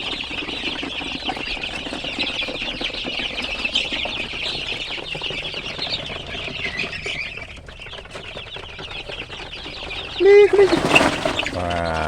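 Free-range village chickens cluck and chirp in a steady, busy chorus at mid distance, with a louder burst of wing flapping and squawks near the end.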